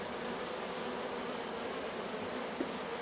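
Honey bees drone around an open Layens hive in an apiary, a dense continuous buzz, close and even, with no voices.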